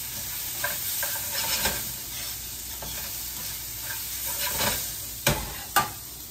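Peas and corn seasoned with salt and pepper are stirred in a sizzling pan, a steady frying hiss broken by soft scraping strokes and two sharp clinks near the end.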